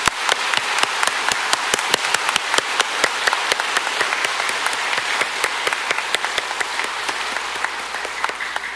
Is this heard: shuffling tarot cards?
no